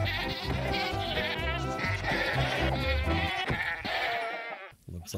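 Many screaming goats in Minecraft bleat over and over in a dense, loud chorus of overlapping cries that continues almost without pause, fading briefly near the end.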